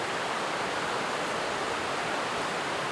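Water pouring steadily into a microgreens growing tray filled with stones, a continuous broadband rush at moderate level, close and uninterrupted with no voices.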